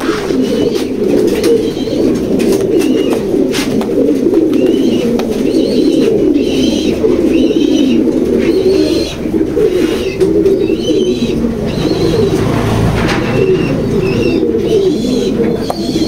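A female pigeon coos in a pigeon loft, a dense, steady run of low throaty coos with scattered higher chirps from other birds, close and continuous throughout.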